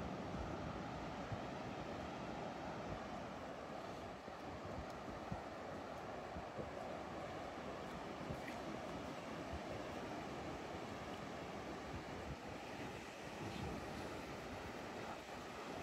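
Sea surf rolling onto a Gran Canaria beach with the incoming tide, a constant, broad wash of waves mixed with wind noise, steady throughout with no voices.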